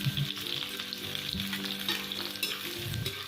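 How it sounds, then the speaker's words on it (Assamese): Onions frying in a little oil in a wok for an Assamese-style chicken curry, a continuous close sizzle with bursts of crackling and stirring scrapes, no voices. "কেৰাহীত অলপ তেল দি ইয়াত মই পিঁয়াজখিনি ভাজি ল'ম"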